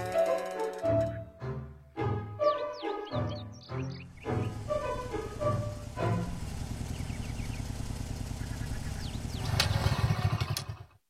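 In an animated scene a motorcycle engine sputters in uneven, rough bursts with clattering, then runs on in a strained, struggling drone before it cuts out; close and fairly loud.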